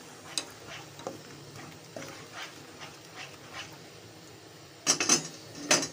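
A spoon stirs ground onion in a cooking pot for potato kofta curry, making intermittent light scrapes and clinks, with a louder burst of clattering toward the end.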